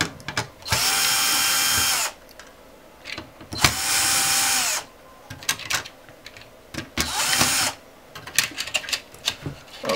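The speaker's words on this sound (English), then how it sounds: "Okay, take out a screw, take it out." Power drill backing a screw out of an Elo ET1515L touchscreen monitor: three loud whirring bursts of roughly a second each, with quieter handling clatter and clicks in the gaps.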